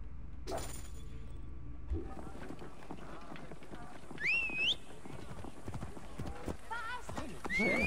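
Hooves clop along at a steady pace while a horse neighs sharply a couple of times in Assassin's Creed Origins, set against busy game sounds and effects.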